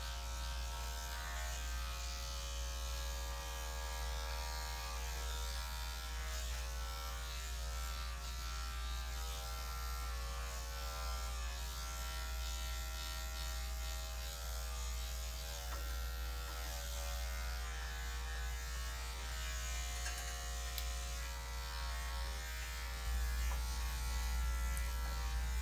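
Electric dog grooming clippers needing oil buzz steadily at close range, a constant motor hum with a slightly rough, strained edge that never lets up.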